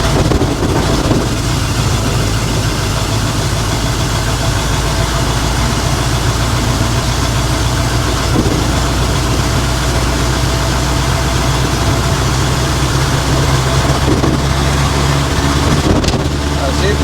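Custom Ford cabover truck engine pulling in fifth gear, direct drive, a loud steady low diesel drone with constant rumble and road noise throughout, unchanging for the whole stretch.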